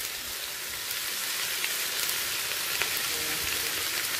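Carrots, beans and potatoes fry in oil over high flame, a dense steady crackling sizzle like rain that holds evenly throughout with small pops scattered across it.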